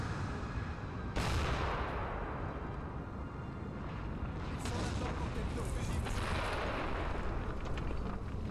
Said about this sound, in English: damn British are shooting their artillery at us, sir